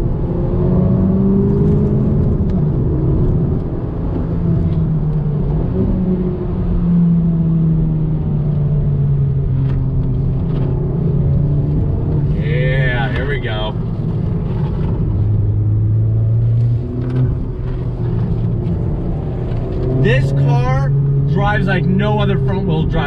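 A Honda Civic Type R pulls hard in second gear under throttle, its engine note droning and rising steadily from the cabin while someone talks over it throughout.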